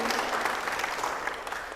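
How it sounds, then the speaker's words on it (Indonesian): A short burst of applause from students at an IPNU and IPPNU school gathering in Indonesia, moderately loud and somewhat uneven, with individual claps flickering through the crowd noise. "Tepuk tangan untuk PK IPNI PPNU SMK Maris NU Bogosari."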